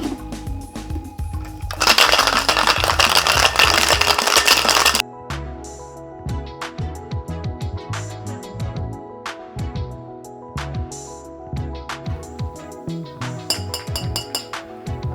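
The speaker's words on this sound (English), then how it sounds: "So for this one, I'm gonna shake it with just some standard ice cubes." A daiquiri cocktail shaken with three standard ice cubes, giving a loud rattling shake of ice in the tin followed by a run of sharp glassy clinks and knocks, with no talking.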